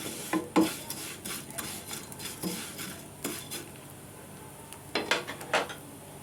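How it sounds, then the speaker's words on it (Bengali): Vermicelli (semai) is fried in a pan for a sweet Bengali dish, a spoon scraping and stirring against the metal in irregular strokes over a soft sizzle, close and clear. "আমাদের সিমিটা ভাজা হয়ে গেছে"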